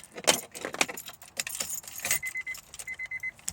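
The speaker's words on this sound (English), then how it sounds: "we grab the keys that is so conveniently just here" A bunch of keys jangles in and out of a parked high-mileage car, clattering in several bursts close to the microphone along with faint chimes and rustling; no one talks.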